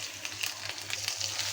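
Fried onion and spices cook in a pan, giving a soft, continuous sizzle with light crackles and a low steady hum beneath it.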